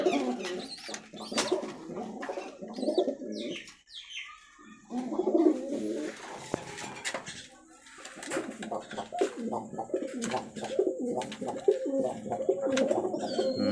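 Female Madrasi pigeon cooing in a loft, with soft repeated coos and chirps scattered through the clip over a busy background of other birds and some nearby rustling.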